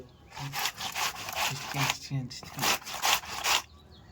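Pumpkin is rubbed hard against a hand grater for a Bihari kumhrauri, giving rhythmic rasping strokes about twice a second, close and fairly loud, with a voice over the grating.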